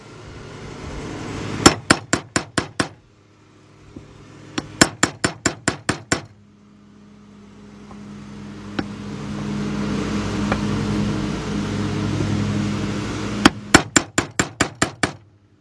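A hammer taps a 32 mm socket to seat a new right valve cover seal on a 2012 Ford F-150 3.5 pickup, making three close bursts of five to seven sharp metallic strikes with a low hum between.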